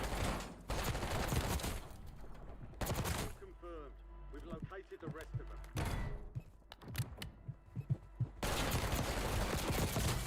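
Gunfire in Call of Duty Warzone: bursts of automatic weapon fire and single shots come in clusters at the start, middle and end, with quieter stretches of game sounds between them.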